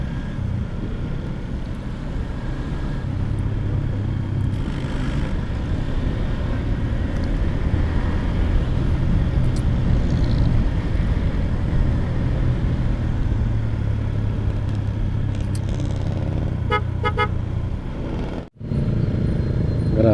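Fast motorbikes with no plates roar past one after another on a road, a steady engine drone with wind buffeting throughout, ending in a brief dropout.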